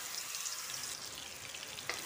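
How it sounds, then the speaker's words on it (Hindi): Ground spices frying in hot mustard oil in a kadai over a fenugreek tempering, a steady close sizzle with light stirring scrapes, no talk. "अब इसमें हम पिसी हुई मसाले को डाल देंगे"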